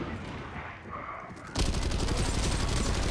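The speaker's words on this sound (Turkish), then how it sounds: "Oğlum pompalı çok sağlam vuruyor be" A shotgun blasting in the video game Synced, starting with quieter scattered shots and then breaking into a loud, dense burst of rapid gunfire that carries on to the end, with a voice faintly underneath.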